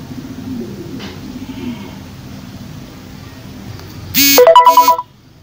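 A WhatsApp tracker app sounds a short, loud notification chime on a phone: a quick burst of bright electronic tones near the end, after a stretch of quiet room noise.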